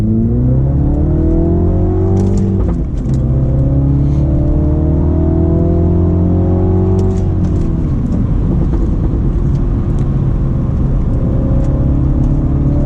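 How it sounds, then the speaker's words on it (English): A Dinan Stage 1 tuned F56 Mini Cooper JCW pulls hard in second gear, its engine note climbing, dropping briefly at a shift, then climbing again, loud and close with wind rush and no talk. "Let's send off with one last pull,"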